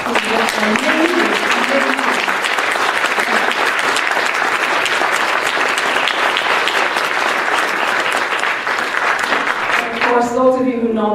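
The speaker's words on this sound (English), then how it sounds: "I would like for a round of applause for Penny Row" An audience at a ceremony honouring a volunteer claps in a sustained, dense round of applause lasting around ten seconds, loud and close, with a voice briefly heard at the start and again as the clapping fades.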